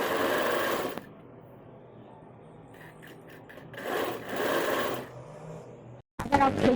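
Sewing machine stitching a fabric strip onto a child's kurti, heard in a loud steady run, then a pause, then two shorter bursts of stitching, with a brief quick burst at the end; no talk.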